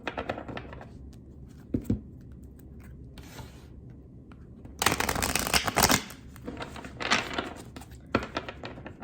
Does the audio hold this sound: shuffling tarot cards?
yes